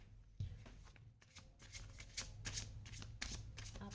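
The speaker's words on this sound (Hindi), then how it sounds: "फिर से एक बार शफल करूँगी" Tarot cards being shuffled by hand, a steady papery riffling and slapping that runs for a few seconds with brief louder bursts, close up and with no voice.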